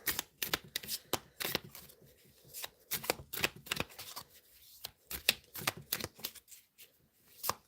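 Sacred geometry oracle cards shuffled and pulled from the deck, dense bursts of close, crisp card riffles and flicks in quick irregular clusters with short pauses, no voices.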